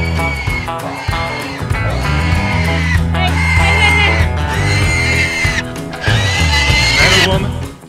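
Pigs on a Canadian homestead scream loudly and shrilly after being caught, in harsh overlapping squeals with short breaks between them, and other sounds mix in.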